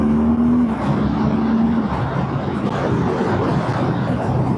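A 2025 BMW R12 G/S motorcycle on the road makes an automatic throttle blip on a downshift into second gear: a brief engine rise, then steady engine drone under heavy wind rush.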